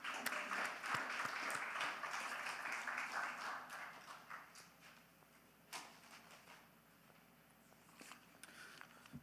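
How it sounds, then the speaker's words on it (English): An audience at a youth gathering gives a round of applause, with clapping that is loud at first and then thins to scattered claps and faint room noise. "Can we give him a round of applause?"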